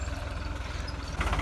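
A New Holland tractor engine idles in a farm field before laser land levelling, a low, rhythmic diesel throb that runs steadily and swells slightly near the end.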